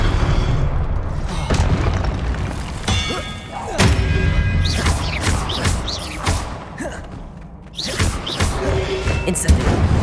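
Spell combat in Hogwarts Legacy, with the Expelliarmus disarming spell among repeated loud magical blasts, thuds and whooshing impacts in quick irregular succession, no voices heard.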